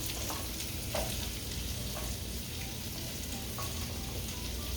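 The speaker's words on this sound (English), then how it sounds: "Start getting a little stir fry on this." Carrots stir-frying in a pan, giving a low, even, continuous sizzle with faint crackles throughout, quiet and unbroken, no talking.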